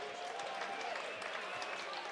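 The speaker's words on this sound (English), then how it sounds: "give a round of applause to all the mothers in the room" An audience at a St. Anne's fundraiser dinner gives a round of applause for the mothers in the room, a steady, moderately distant wash of clapping with murmuring voices mixed in.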